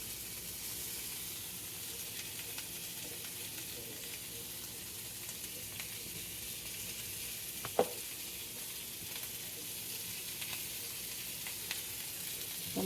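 Lamb chops fry in a pan with a soft, even hiss and sizzle that runs throughout, broken by one brief sharper clack near the middle.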